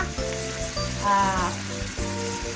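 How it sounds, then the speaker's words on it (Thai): Pickled mustard greens stir-fry in a hot pan with a loud, continuous sizzle and crackle, punctuated by the scrape and clatter of stirring, close and steady. "เราก็ ผัดผักกาดดองนะคะ"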